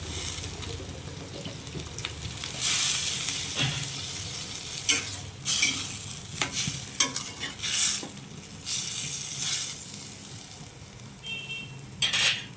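Water added to poppy seed paste frying in a pan with chichinga, followed by loud spatula scrapes and stirring strokes over a bubbling sizzle, with irregular clanks against the pot close by.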